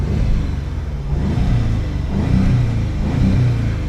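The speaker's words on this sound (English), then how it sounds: "it actually has exhaust valves that open up in the back, so the car sounds a little bit louder when it's in dynamic mode" A 2017 Audi S3 Prestige in dynamic mode, its exhaust valves open, revs against a soft limiter near 3,500 RPM. The engine gives a loud, steady low rumble that swells in a few brief rises, with no talking.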